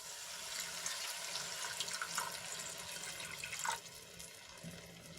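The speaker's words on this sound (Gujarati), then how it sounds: "અહીંયા હું એક ગ્લાસ જેટલું પાણી એડ કરું છું" Water is poured from a glass into sautéed curry masala for gravy, a steady, soft splashing stream lasting several seconds with a brief louder gush near the end.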